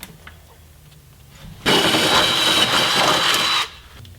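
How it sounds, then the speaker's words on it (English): A power drill bores holes through a car's pinch seam while JCR Crusader rock sliders are fitted, its loud, steady whine running for about two seconds in the middle after a quiet lead-in, then stopping abruptly. "we'll need to drill more holes"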